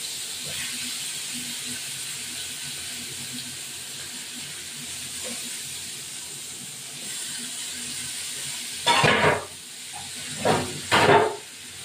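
Parshe fish being fried in hot oil with mustard, a steady low sizzle and hiss running throughout, with a few louder sharp crackling bursts near the end.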